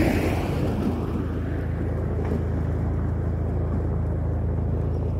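Heavy trucks grinding up a dirt hill on the Transamazônica highway in southern Pará, a continuous low engine rumble heard from some distance, muffled by wind buffeting the microphone.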